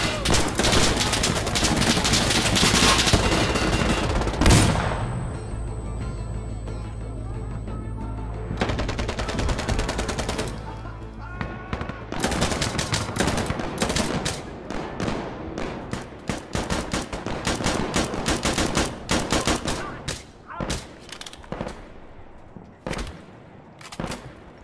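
Rapid gunfire from a low-recoil weapon in the Insurgency: Sandstorm shooter game: dense bursts of loud shots with brief pauses, continuing through most of the stretch.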